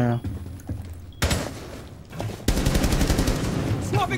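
Gunfire in Rainbow Six Siege as a player shoots out a camera: bursts of loud, close shots, sparse at first and then a dense rapid volley filling the second half, with voices talking over it.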